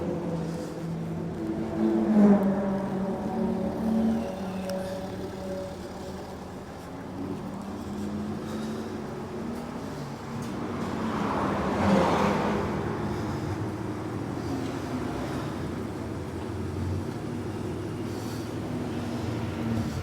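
An Aston Martin Vantage BTCC race car rolls into the pits, its engine a low, rumbling drone that swells twice as it approaches and passes, moderately close, with no voices over it.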